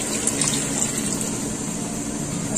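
Water streams steadily into a cooking pot while a chicken dish is being prepared, a continuous close splashing pour with no break and no talking.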